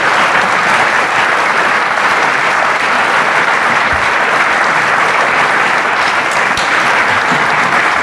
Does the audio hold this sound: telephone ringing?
no